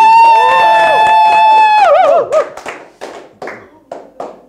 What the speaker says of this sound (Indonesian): Mohon tepuk tangan 400 orang yang hadir ini tepuk